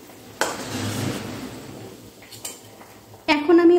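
Fried onions are lifted out of hot oil with a metal utensil, scraping clatter and a soft sizzle, then a sharper metallic clink near the end, with faint talk in the background.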